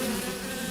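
A short burst of droning bees used as a sound effect in a radio advert, a dense, steady buzzing hum heard alone.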